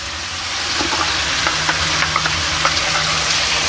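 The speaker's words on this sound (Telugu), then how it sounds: "ఇప్పుడు మంచి నూనెలో ఇదంతా వేగాలి మంచిగా" Chilli powder and garam masala frying in oil for a spicy curry, a loud continuous sizzle with faint crackles and occasional stirring scrapes close by.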